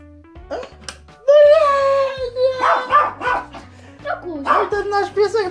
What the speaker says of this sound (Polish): A ten nasz piesek to tutaj hałasuje